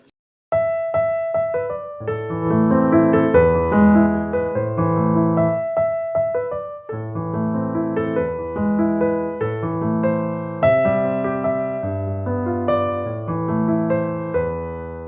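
Piano rendition of Beethoven's Für Elise with the non-chord notes stripped out, leaving block chords that sound continuously and fairly loud, with no talking.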